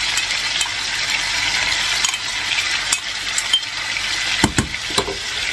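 Majao cooks in a pan with a steady close sizzle, with scattered metallic clinks and scrapes of stirring growing busier toward the end, and no talking.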